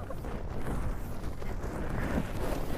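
Strong storm wind buffets a tent and blusters across the microphone in a loud, continuous roar with gusty surges in a major UK storm.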